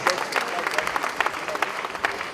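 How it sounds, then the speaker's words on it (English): An audience at an annual meeting breaks into brisk applause, many hands clapping in an uneven patter with a few sharper claps standing out, loud and close throughout. "A round of applause for him as a contribution to thanks."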